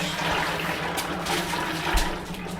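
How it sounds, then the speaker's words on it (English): A gallon of liquid, likely dye or stain, poured into a container over a tarp: a continuous rushing, gurgling splash at close range, steady throughout with no talk. "Take a gallon, pour it in here."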